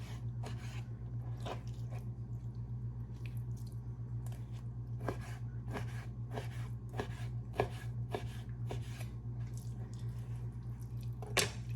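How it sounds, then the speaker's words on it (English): A knife slices raw, wet chicken into strips on a board, giving a steady series of soft, close chopping thuds with squishy contact, over a low constant background hum. "Now you're going to be cutting this into"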